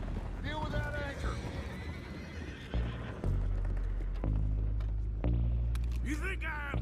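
Horses whinny repeatedly during a boat skirmish in Red Dead Redemption 2, high wavering neighs rising over a steady low engine-like throb, with hoof clatter and raised voices talking around them.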